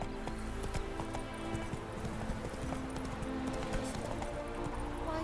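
Roach, the horse in The Witcher 3, gallops in a fast, continuous clip-clop of hooves, loud and close, with a rider's occasional voice underneath.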